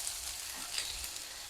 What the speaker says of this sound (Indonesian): Lanjut masukin cambah toge